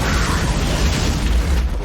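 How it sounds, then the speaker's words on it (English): A loud, rumbling movie explosion from The Mask of Zorro roars with heavy low-end boom, sustained and dense, played through speakers. "Great explosion."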